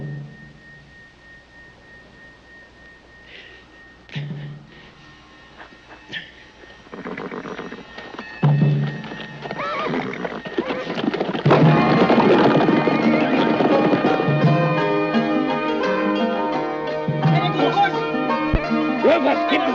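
Horses clip-clop at a gallop in a Western film scene, with loud whinnies and neighs rising over the hoofbeats as the action builds and the sound grows fuller.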